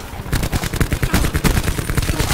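Rapid bursts of automatic gunfire in a Call of Duty match, loud sharp cracks repeating in quick irregular volleys throughout with no talking.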